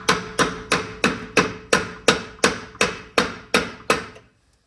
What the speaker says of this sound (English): So I'm gonna try to see if we can get it on here with the mallet.